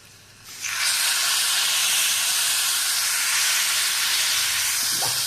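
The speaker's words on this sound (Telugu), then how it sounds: "ఈ పోపు తీసుకెళ్ళి దీంట్లో వేసేద్దాం" A sudden loud hiss bursts out as hot ghee tempering hits the lentil soup, then keeps sizzling steadily and strongly to the end.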